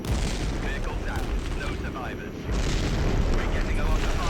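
A napalm or artillery strike in the strategy game Regiments erupts as a dense, continuous roar of rumbling blasts, briefly dipping before surging louder again, with someone talking over it.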